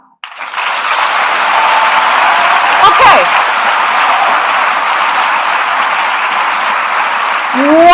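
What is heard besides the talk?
audience clapping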